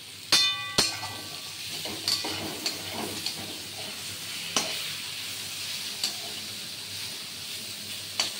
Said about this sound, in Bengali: আর একটু ভাজা হবে, আরও 2 মিনিট লাগবে এইটা কড়াতে ভাজা করতে